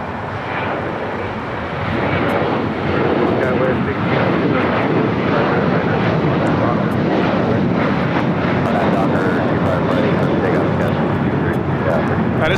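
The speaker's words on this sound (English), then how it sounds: "1334 taking off to Belize City on the 737-800" An Alaska Airlines Boeing 737-800 jet takes off at LAX. Its engine roar swells after a couple of seconds and then holds loud and steady.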